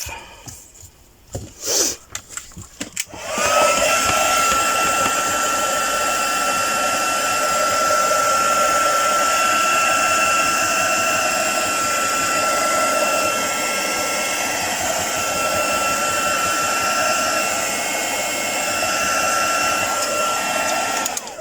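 A dryer blows a steady loud whoosh over fabric flowers sprayed with Distress Oxide, starting after a few seconds of handling noises and running continuously with a faint whine.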